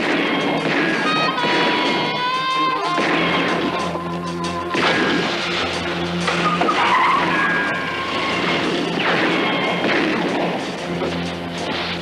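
A Jeep in a 1991 French TV action show drives hard with loud, continuous tire skidding and squealing, then crashes, the engine and screech staying dense throughout.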